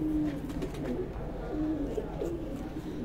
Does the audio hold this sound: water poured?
no